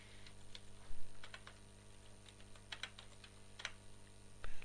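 Keys clatter in quick, uneven bursts on a computer keyboard while code is entered in Turbo C++, close and fairly quiet with short pauses between runs of keystrokes and no talking.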